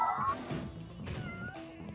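Cat meows from the awkward noise generator, a botched experiment in the Quantum Conundrum video game: several overlapping, wavering meows in quick succession over a low rumbling game background, moderately loud and close.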